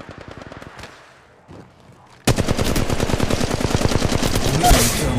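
Rapid automatic gunfire from a battle in the mobile shooter Apex Legends Mobile: sparse shots first, then a loud, dense sustained burst of rapid fire for the last three seconds.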